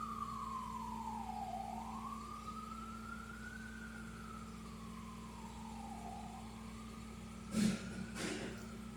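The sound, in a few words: ambulance siren passing by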